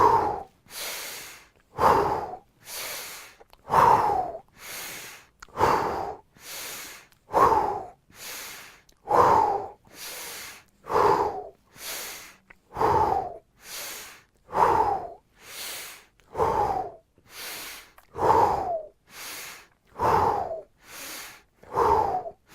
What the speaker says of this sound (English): breathing out to the horizon, breathing up in, expanding the chest, and back out. 50 of the biggest breaths you've ever taken.